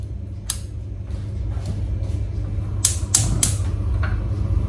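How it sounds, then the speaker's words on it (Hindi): A gas stove burner under a pan is switched on, giving a series of sharp ignition clicks, single at first, then a quick cluster, over a steady low hum. "गैस ऑन कर लीजिए।"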